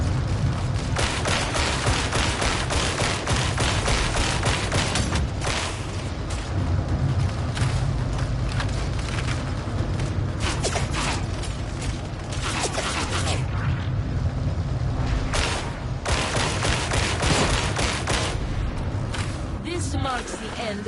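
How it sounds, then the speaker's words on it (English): Continuous game combat in Darktide on PS5, with dense bursts of ranged gunfire and booming impacts layered over mechanical clatter, loud and sustained for the whole stretch with voices mixed in. "Ranged attacks cause suppression, making it harder to land accurate shots."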